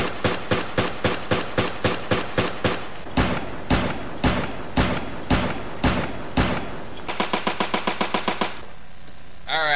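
High Roller handgun firing in Resident Evil: Revelations, a long run of loud evenly spaced shots, first rapid, then slower and heavier, then rapid again, close and alone.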